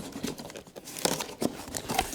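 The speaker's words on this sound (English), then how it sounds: "Bit difficult to get out of the box as well. Right, I'll get the packaging out" Packaging crinkles and rustles as it is pulled from the box of a Ferrex multifunctional sharpener, a few close crunchy bursts and scrapes in quiet with no talking.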